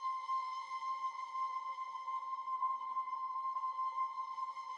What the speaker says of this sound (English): And then I added this little pad thing right here,